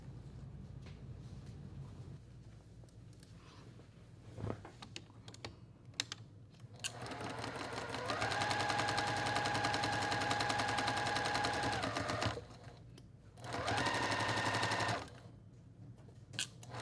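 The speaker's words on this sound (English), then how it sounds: "And then I'm going to sew this seam." A sewing machine stitches a seam on a quilt block. It whirs steadily for about four seconds, pauses, then runs again for a shorter stretch, over a quiet room with faint handling noises between the runs.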